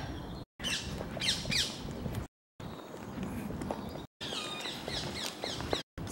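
Birds in a park squawk repeatedly with harsh, scratchy calls that overlap in a busy, close chorus, broken by several brief dropouts.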